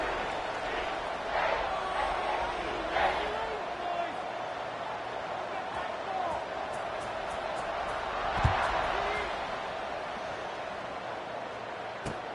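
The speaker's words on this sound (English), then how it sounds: "this crowd is feeling themselves after that last drive" Football stadium crowd at a college game between UL and Georgia State roars steadily before kickoff, a broad continuous cheer under a commentator's voice, with one brief sharp thump midway.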